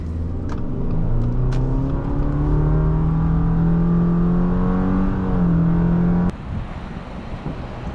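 A 2024 Subaru Forester Wilderness accelerates to pass, its engine note climbing steadily and loudly for about six seconds before easing off suddenly to a lower cruising drone.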